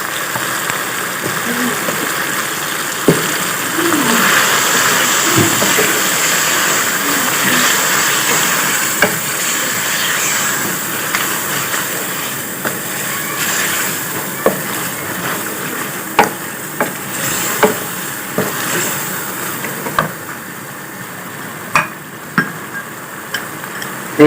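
Chicken charsi karahi sizzles steadily in a hot pan as yogurt goes in, a loud, continuous frying hiss broken by scattered sharp clinks of a utensil against the metal, growing more frequent toward the end.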